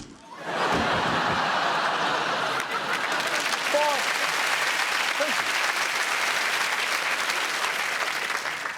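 Studio audience at a comedy news show applauding loudly and steadily, a dense, sustained wall of clapping with a few laughs mixed in, running from just after the start to the end.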